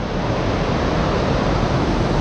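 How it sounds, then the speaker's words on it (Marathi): A hill river in Arunachal Pradesh rushes and gurgles in a dense, steady wash of water noise, close and loud throughout the short stretch. "सुंदर नदी वाहते एवढा छान खळखळाट आहे"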